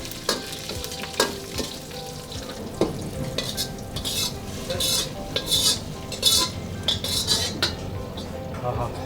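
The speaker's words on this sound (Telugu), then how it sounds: "ఇప్పుడు పప్పు చారుకి తాలింపు వేస్తున్నాం మనం" Tempering for pappu charu, with dried red chillies and curry leaves in a pan, sizzling and frying close by while a spoon stirs and scrapes against the metal in irregular bursts, with occasional clinks of cookware and no talk.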